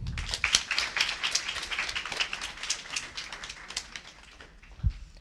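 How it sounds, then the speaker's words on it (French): A church congregation at a children's club celebration claps for the guitarist, a lively burst of many hands near and clear that gradually thins and fades out, with a low thump near the close. "Et à la guitare, on applaudit Jean."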